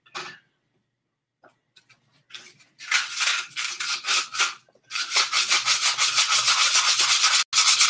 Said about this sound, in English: it needs to be sanded.